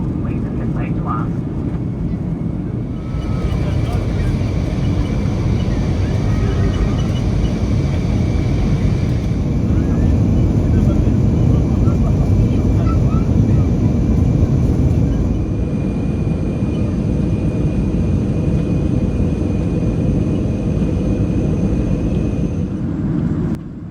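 Steady broadband roar of a Rex Airlines Boeing 737 cabin in flight on the Sydney to Adelaide route, a constant loud engine and airflow drone with a faint high whine, continuous throughout.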